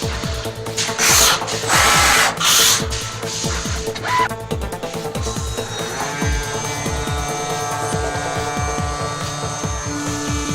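A CNC vertical drilling machine with a 16 mm countersink drill bores through 8 mm glass, with a steady motor whine and a rapid series of sharp ticking contacts.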